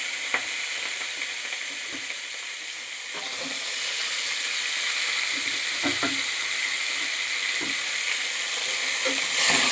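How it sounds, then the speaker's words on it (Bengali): Spring onion stalks, red amaranth stems and tomato fry in a pan with a steady, loud sizzle and hiss, broken by occasional soft scrapes and taps of stirring; no talking. "এবার এগুলোকে খানিক্ষণ ভেজে নেব"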